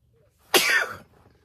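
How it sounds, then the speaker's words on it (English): A single sharp sneeze bursts out close by, short and explosive, with a quiet moment before and after. "I'm going to sneeze."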